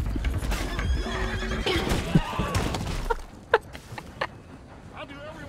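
A horse whinnies loudly and hooves clip-clop in a cowboy video game, amid chaotic game noise and a crash, followed by scattered thuds and hoof sounds; a player talks excitedly throughout.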